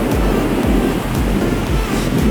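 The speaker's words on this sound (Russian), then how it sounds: "Тут довольно сильные волны сегодня. Море громкое" Strong waves of the Sea of Okhotsk pounding the shore on Sakhalin, a loud, continuous roar with repeated low surges every half second or so, mixed with heavy wind rumble on the microphone.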